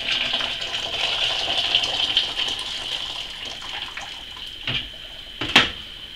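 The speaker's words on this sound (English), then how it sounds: "Now just add your liter and a half of boiling water." A steady stream of boiling water pours and splashes continuously onto sugar, with a hollow rushing tone, ending with a couple of brief clunks near the end.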